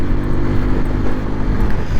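A Bajaj N125 motorcycle on the move gives a loud, close, continuous engine drone with a steady low rumble and no pauses or voices.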